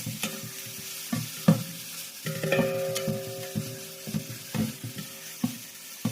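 Chicken frying in a little oil over a village cooking fire, a steady crackling sizzle broken by repeated scraping stir strokes and clanks of a ladle against the pan, close and moderately loud with no talking.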